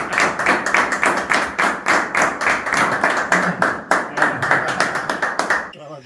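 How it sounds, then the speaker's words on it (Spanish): People at a hiking club's 25th anniversary gathering clap for a new member, a loud close rhythmic clap in steady unison beats that continues for several seconds and then stops abruptly. "¿Le damos un aplauso al nuevo o no?"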